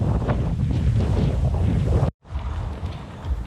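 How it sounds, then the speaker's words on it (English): Strong wind batters the microphone on El Hierro in the Canary Islands, a loud rumbling buffet that cuts out for a split second and then returns just as gusty, with no voices. "Oh my god, it's so windy!"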